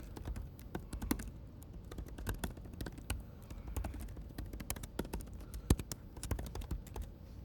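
Computer keyboard typing while writing boilerplate code, a quiet, irregular run of close key clicks with brief pauses, continuing steadily with no talking.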